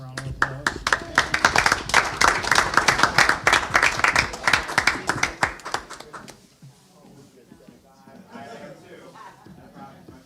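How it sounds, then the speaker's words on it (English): Audience applause at a school board meeting, dense clapping filling the room for about six seconds before fading out, with voices talking quietly afterward. "Let's give them a round of applause."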